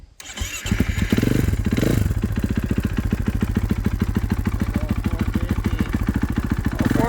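Tuned KTM 450 dirt bike engine firing up and warming, a quick start followed by a close, steady rapid-thumping idle with slight throttle blips, and voices talking over it.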